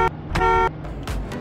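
Car horn in the Roblox game CDID, sounding an SUV: a short toot, then a longer held honk with bright harmonic tones, followed by quieter brief blasts, loud and close with no talk.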